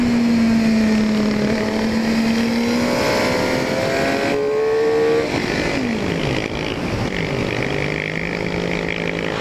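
A motorcycle, one of the world's most expensive bikes, is run up to a hard high-rev burst to clear out its valves, its engine note climbing and falling repeatedly in loud, close whines with no talk.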